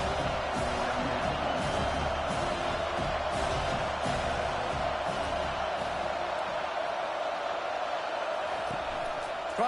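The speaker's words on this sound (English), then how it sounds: "Listen to this crowd just shaking the girders of this place, trying to help their defense." A loud, steady stadium crowd roars throughout a college football game in NCAA 25, a dense wall of cheering with brief swells and no break.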